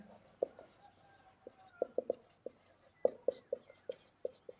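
Pen or pencil writing on paper during a Class 9 maths lesson on matrices, a series of short scratchy strokes in irregular bursts, close and fairly faint, with no talking.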